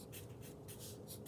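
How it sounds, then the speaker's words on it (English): A pen or marker writing letters on paper, rhythmic scratchy strokes in short repeated bursts, close and fairly quiet, with no talking. "we're going to write the Lorax on top"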